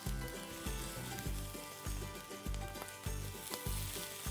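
Artichoke quinoa cakes sizzle and crackle in a hot frying pan, with soft rhythmic scraping and bumping as they are nudged about; close and steady, no voices.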